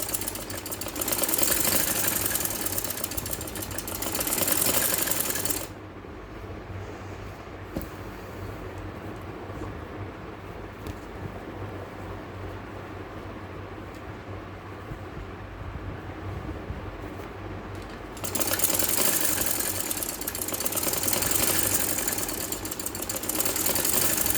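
A sewing machine runs steadily while stitching piping along a kameez, a continuous mechanical whir that is louder at the start and end and eases to a softer hum through the middle stretch.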